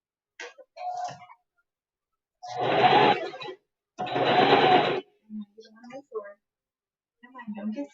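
A sewing machine stitches very thin fabric in two quick bursts of close, rattling whir, each about a second long, separated by pauses, with a person talking quietly before, between and after the runs.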